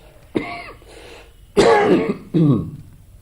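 Three harsh throat-clearing coughs, close and loud, separated by short pauses with no talking.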